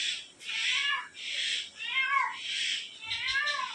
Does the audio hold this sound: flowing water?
no